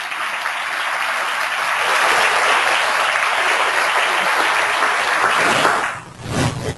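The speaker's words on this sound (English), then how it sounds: "So let's give the students another round of applause." An audience applauds students with a loud, even roar of clapping that holds for about six seconds, then fades and trails off into a brief scatter of claps.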